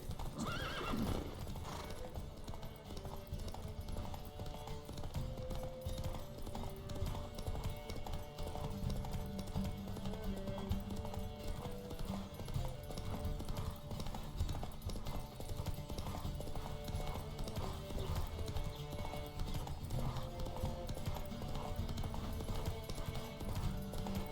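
Steady clip-clop of galloping hooves with occasional horse whinnies in The Witcher 3, over a loud, continuous game music backdrop, no talking.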